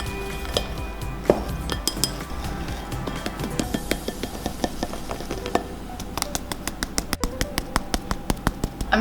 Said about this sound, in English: I'm just going to mix up the dry ingredients with a whisk